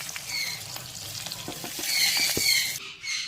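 Stuffed bottle gourd fries in oil with a steady, close sizzle. A few soft clicks and taps come as pieces are lifted out.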